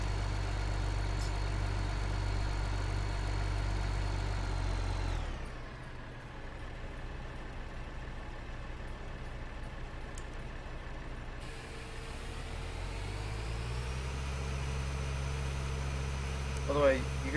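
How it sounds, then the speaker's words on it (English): A tractor engine in Farming Simulator 2015 drones loudly, then drops to a quieter idle for several seconds before the revs climb again as it tips its load, a steady low mechanical hum throughout. "It increases the tractor's revs while it is tipping."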